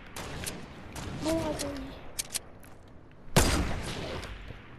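Gunfire in Fortnite: scattered shots and a loud burst near the end over game noise, with someone speaking French briefly in the middle.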